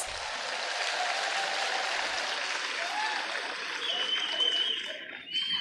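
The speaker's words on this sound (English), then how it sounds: "I think we can give ourselves a big round of applause." An audience at a Founder's Day celebration for the Father Muller Charitable Institutions gives a long round of applause, steady dense clapping heard from a distance through a hall, fading near the end.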